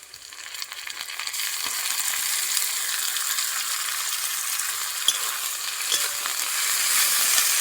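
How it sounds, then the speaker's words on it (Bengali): Ginger garlic paste sizzling and frying in hot oil with already browned onions, a steady dense crackle that builds and holds throughout, with occasional light stirring clinks and no talk. "এবার আমি আদা রসুন পেস্ট দিয়ে দেবো"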